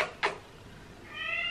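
Pet cats meow at home, one short close meow followed about a second later by a longer, rising meow, with quiet room noise between.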